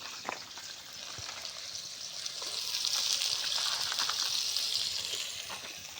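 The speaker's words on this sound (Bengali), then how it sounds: "পেঁয়াজ ভাজ দিছে" Onions fry for biryani at an outdoor picnic, a soft, steady sizzle that swells in the middle with scattered faint clicks. No speech is heard.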